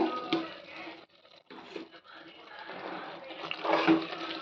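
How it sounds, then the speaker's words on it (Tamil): Water pours and splashes steadily into a pressure cooker, a continuous gurgling rush with a short pause before it resumes and grows louder. "தேவையான அளவு ஒரு கப்பு தண்ணி சேர்த்துடலாங்க"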